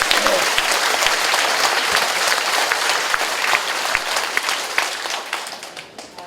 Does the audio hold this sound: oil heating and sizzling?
no